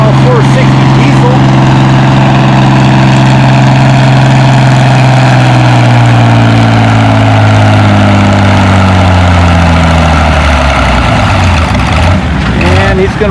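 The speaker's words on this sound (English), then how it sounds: "Next on the sled, got Matt Sweetness, Farmall 460 diesel." A Farmall 460 diesel tractor at a tractor pull runs loud and close, its deep engine note steady and then slowly falling in pitch as it labours, filling the whole stretch.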